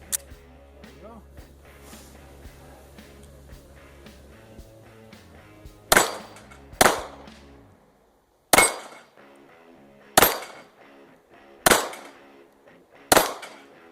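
A Polish Radom VIS P35 pistol, a roughly 75-year-old handgun, fires 9mm Luger at a rack of steel plates outdoors: six sharp, loud shots spaced about a second or two apart, each with a short ring, after a quiet stretch of low background sound.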